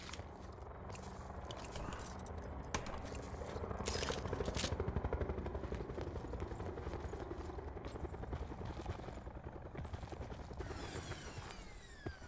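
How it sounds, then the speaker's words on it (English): A helicopter flying in the Call of Duty Blackout battle royale game, a dense steady rotor chop that rises to a peak midway and then holds, with sharp cracks of gunfire mixed throughout. "Wait, what? That chopper?"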